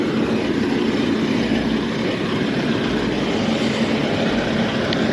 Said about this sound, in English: Loud truck we're right next to.